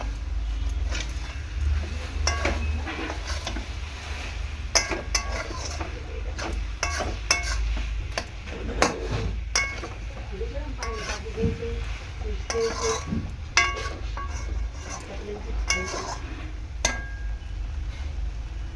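A spoon stirring vegetarian labra, a mixed vegetable curry for khichuri, in a pot, with steady sizzling and repeated scraping clinks against the metal throughout, and a voice speaking briefly.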